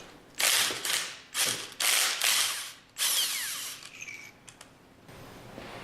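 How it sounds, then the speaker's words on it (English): Power tool ratchets and whirs in several loud bursts of about half a second each, removing the retaining bolts from an MWSR packing stack manifold, then gives a few lighter clicks. "Once the pins are securely in place, remove the remaining retaining bolts."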